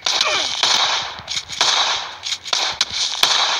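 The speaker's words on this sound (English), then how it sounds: "Shotgun time." Shotgun blasts in the PUBG Mobile battle royale game, a series of sharp, loud reports at irregular intervals, roughly half a second to a second apart, with brief gaps between shots.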